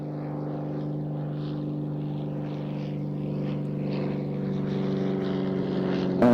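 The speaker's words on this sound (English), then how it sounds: "So we now have a formation of gliding tug flying past from left to right." Glider tug aircraft pass in formation from left to right at an airshow at Waddington, a steady propeller drone with a constant pitch that slowly grows louder as they approach.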